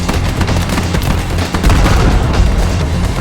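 Dense, continuous machine gun fire in the video game Army Men Warfare Remake, rapid overlapping rattling shots and booms forming a loud unbroken barrage with no pauses.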